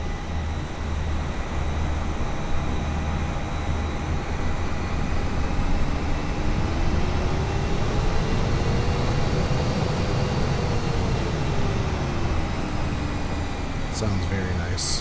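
Embraer ERJ 175 jet engines in the FS2020 flight simulator, heard from the rear as a steady loud roar and whine that slowly swells and eases, with a voice talking over it.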